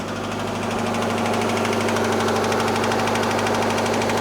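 An idling Subaru engine with rod knock knocks hard and rhythmically, a steady metallic tapping over a rough rumble, close and loud with no voices.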